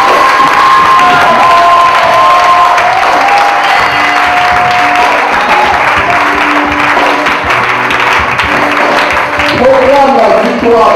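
A church congregation in Abidjan erupts in loud, sustained cheering, clapping and shouted acclamation, a dense close crowd roar with high voices and whoops layered throughout.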